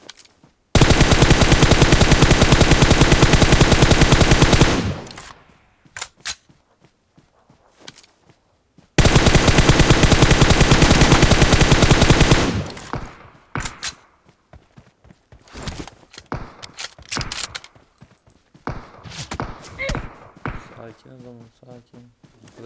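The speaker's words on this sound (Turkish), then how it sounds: "SKS ile vuruyor herhalde ya." Sustained bursts of rapid automatic gunfire in PUBG Mobile on the Erangel map, two long loud volleys followed by scattered single shots, thuds and footsteps, with voices talking over the action.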